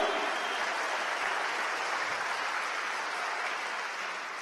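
Congregation in a Spanish-language church service applauds in praise, a steady, even wash of many hands clapping that holds at a constant level before easing slightly at the end.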